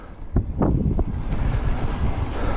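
Gusty wind blowing hard across the microphone outdoors, a loud, buffeting low roar with a few sharper thumps near the start.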